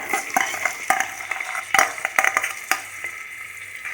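Onion fries in a pan over a medium flame after garlic cloves, a bright close sizzle overlaid by quick, irregular scraping strokes of a spatula stirring, loud and continuous without any talking.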